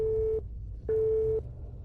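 A telephone busy tone sounds after a hung-up call: two identical steady beeps, each about half a second long, separated by a short gap, clear over faint background hum.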